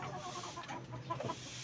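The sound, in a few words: hen clucking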